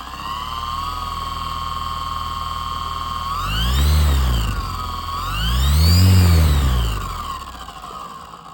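Eachine E-160 RC helicopter rotor head and motor spinning up in two loud, rising-and-falling surges over a steady whine, close and alone without talk.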